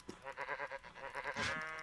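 Tainted sheep in Minecraft with the Thaumcraft mod bleat in a faint, wavering, nasal call that pulses rapidly for well over a second and swells briefly near the end.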